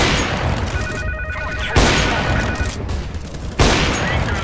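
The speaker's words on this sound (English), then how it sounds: "I'm throwing a flashbang." Counter-Strike match with a flashbang grenade thrown: a dense roar of game noise broken by two sudden loud bangs a couple of seconds apart.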